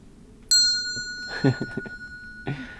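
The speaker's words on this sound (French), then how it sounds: "La cloche ici qui est magnifique aussi, elle est hyper lourde. C'est du laiton" A heavy brass bell is struck once, giving a loud, bright strike with a long sustained ring that hangs on for seconds while voices talk over it and a second tap comes near the end.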